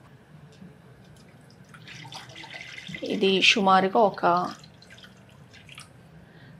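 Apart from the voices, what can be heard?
pouring water into a pan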